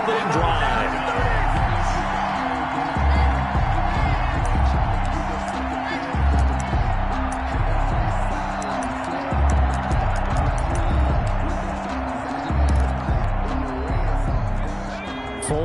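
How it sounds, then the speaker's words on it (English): Large stadium crowd roaring and cheering steadily at a video game American football broadcast, a dense continuous wall of noise with a commentator's voice running over it. "And this crowd loves it as their guys hold on the opening drive."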